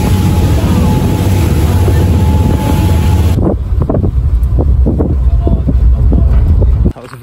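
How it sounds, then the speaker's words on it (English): A high-speed ferry's engine roars with rushing water and wind buffeting the microphone, loud and continuous at first, then giving way to quieter rumble with scattered knocks. "I think we might be on a high-speed ferry"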